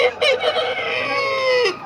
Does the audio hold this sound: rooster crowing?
yes